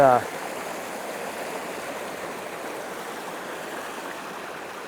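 Water flowing in Arroyo Seco Creek along a hiking trail, a steady broadband rush heard close and continuous throughout, after a brief louder rustle at the very start.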